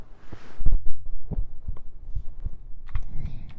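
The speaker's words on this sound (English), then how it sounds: "You want heartbeats?" Heartbeat sounds for ASMR, soft low thumps in an irregular pulse, close and intimate, with faint rustling and clicks between the beats.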